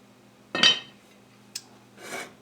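A lid set onto a pot of simmering red kidney bean soup: a loud metallic clatter, a short sharp clink, then a softer scraping rattle as it settles, close by.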